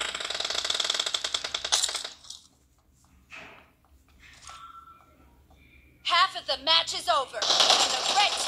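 AKM assault rifle fire in an arena training video game, loud rapid bursts of automatic gunfire at the start and again near the end, separated by a quieter stretch with scattered game sounds.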